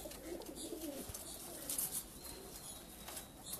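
Racing pigeons, Punjab Cup winners from Lahore-area flying contests, coo faintly in a loft amid a steady hiss of background noise, with soft scattered chirps.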